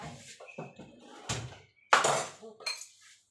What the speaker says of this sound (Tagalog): pinupunasan ito mga guys. Pinupunasan.